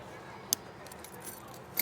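Keys jangling against the key clip of a Deuter Aircontact Pro 65+15 backpack, a couple of brief, faint metallic clinks in a quiet room.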